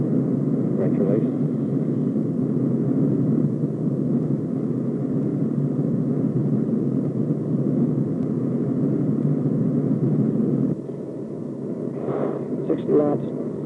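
A military aircraft engine roars steadily through the takeoff roll, a dense low rumble that drops slightly near the end, with crew voices speaking over the intercom.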